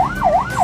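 A close ambulance siren wails, its pitch rising and falling over a low vehicle rumble, with no talk.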